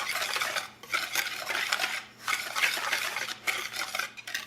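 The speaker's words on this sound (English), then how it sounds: "You're gonna add your sugar, your flour, your cinnamon, and your salt. Give that a good mix." Sugar, flour, cinnamon and salt are mixed in a bowl, producing close, continuous scraping and rustling with occasional clinks of a utensil against the bowl, and no voices.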